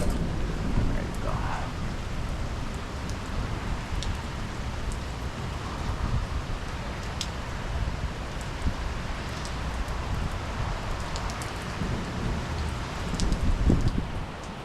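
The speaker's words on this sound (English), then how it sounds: "And there's the rain coming in on you with the wind." Arizona monsoon rain starting with wind, a steady wash of rainfall and gusts hissing across the surface, with occasional sharp drops and knocks nearby, continuous throughout.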